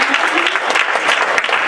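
An audience bursts into dense, loud applause, a sustained wash of clapping hands that fills the short moment close up with no pauses.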